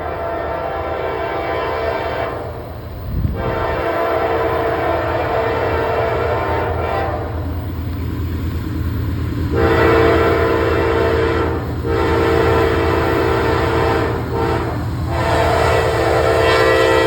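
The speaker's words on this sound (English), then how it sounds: "You got the fresh locomotive on too. Look at that." A train rolls past on River Road behind a freshly painted locomotive at the front, its continuous heavy rumble and wheel noise filling the scene while the horn sounds in several steady tonal blasts.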